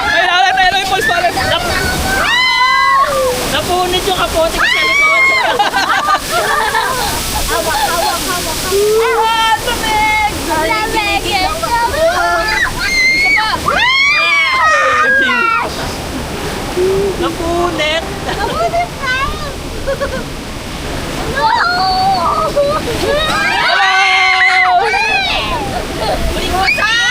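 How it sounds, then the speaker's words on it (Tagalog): Waterfall at the Enchanted Kingdom amusement park, a loud steady rush of falling water heard up close while several people talk and exclaim over it. "Ayan, ayan ang falls pala."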